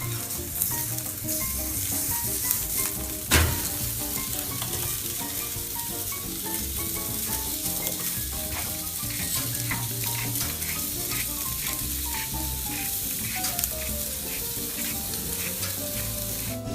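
A Bistecca Fiorentina steak, just turned and salted on top, sizzles loudly and continuously on a hot grill, a dense unbroken crackle with one sharper pop early on.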